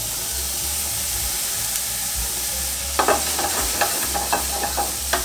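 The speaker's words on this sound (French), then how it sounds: "Je vais mettre mes escalopes dans la poêle, sans matière grasse." Foie gras escalopes and apple pieces fry in a hot pan with no added fat over medium heat, a steady sizzle and hiss that turns busier and crackly midway, with spattering pops near the end.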